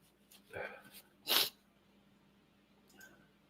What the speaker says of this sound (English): I got to sneeze again.